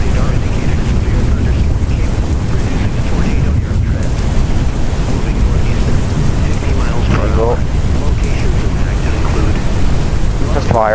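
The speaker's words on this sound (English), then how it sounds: "Heavy rain." Heavy rain and rumbling thunder in a storm-chasing tornado-hunting video game, a loud, steady broadband roar that fills the whole stretch with no letup.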